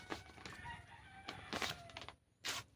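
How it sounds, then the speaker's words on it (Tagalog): Chickens and roosters crowing and clucking in several loud bursts over a noisy yard, with near calls rising and breaking off at intervals. "pasensya na mga idol at maingay yung mga manok"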